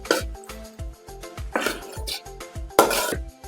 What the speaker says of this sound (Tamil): இப்ப பேஸ்ட் சேர்த்திட்டு ஒரு நிமிஷம் நல்லா கலந்து விட்டாச்சுங்க